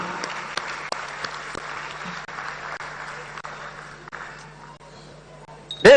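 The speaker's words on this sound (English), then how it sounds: "Let's give him a round of applause" Audience applause at a political event, the National Democratic Congress launch of the TEIN app, a steady wash of clapping with a low hum and occasional louder claps, swelling at the very end.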